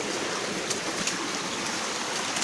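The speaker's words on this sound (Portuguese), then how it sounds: "Tá lavando ali os cascalhos" Water runs and splashes steadily over gravel being washed at a crystal mining site in the mountains, a constant close rushing wash with no voices.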